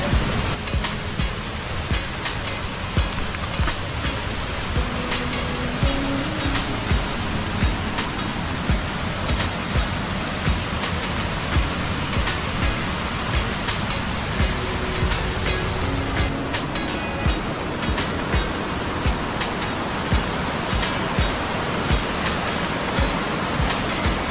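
A monsoon stream running low near Barad Fort, Dahanu, gives a steady broadband rush of flowing water throughout, with faint, regular ticking clicks on top and no talking.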